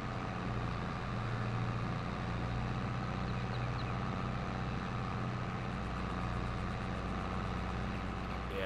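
A tractor engine in Farming Simulator 22 drones steadily at a low idle-like pitch, a constant heavy rumble with no breaks, close and moderately loud.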